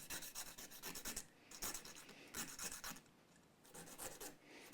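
Close, rhythmic rasping strokes of a worn-out sanding sheet rubbed by hand, bursts repeating in a steady back-and-forth pattern, fairly quiet with no voices.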